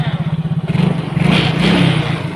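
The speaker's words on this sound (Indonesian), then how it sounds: "tes final sepeda motor dirakit dan sekarang dihidupkan" A Yamaha Mio Soul GT scooter engine starts after reassembly, opening with a rapid rhythmic chugging and then revving up into a louder, fuller running roar nearby.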